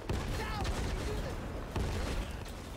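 A grenade goes off in the zombie shooter game Back 4 Blood amid a dense burst of gunfire and booms, loud and close, with voices talking over the action.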